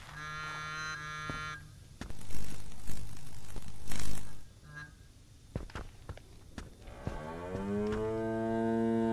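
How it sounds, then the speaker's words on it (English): Cows in the video game The Greyhill Incident moo loudly in long drawn-out calls at the start and end, with scraping footsteps and rustling between them. "Hey cows, shut the fuck up."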